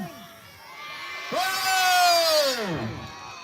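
Schoolchildren at a primary school sports-day tug of war burst into a loud, swelling cheer for the yellow house, a high-pitched crowd shout that rises and fades after an adult's voice calls out.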